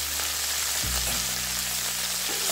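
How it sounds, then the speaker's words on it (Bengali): Diced potato and cauliflower pieces fry together in a pan with a little salt, producing a steady, dense sizzle that continues without pause, with a low hum shifting partway through. "এই আলুটাও একসাথে দিয়ে দিচ্ছি ফুলকপির সাথে ভেজে নেব।"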